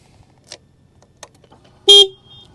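One short, loud honk of a Suzuki Hayabusa motorcycle horn rings out close by after a few soft clicks and handling noises in an otherwise quiet space.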